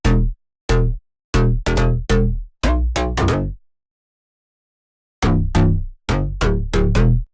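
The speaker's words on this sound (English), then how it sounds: "And then finally there's this pluck bass right here." A pluck bass from the Oxygen sample kit plays a rhythmic pattern of short, punchy notes that decay quickly, then pauses for about two seconds before the pattern resumes. The notes are clear and alone, with no voice over them.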